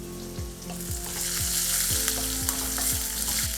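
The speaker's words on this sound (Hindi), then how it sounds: "लहसुन भी भुन रहा है।" Garlic, ginger and long-cut green chillies fry in a pan with a steady bright sizzle, punctuated by regular rhythmic clinks and scrapes of stirring, close and alone without any voice.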